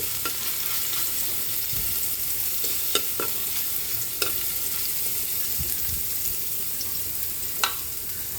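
Garlic sautéing in a pan for beef pochero, a constant bright sizzle with scattered clicks and scrapes of a spatula stirring, close and alone.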